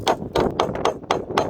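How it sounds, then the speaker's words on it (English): Six sharp metallic hammer taps in an even rhythm, close and clear, as sockets are knocked onto rusty control arm bolts on a Ford Fiesta Mk7. "the ends themselves are a bit rusty, so I'm going to tap these on lightly with a hammer."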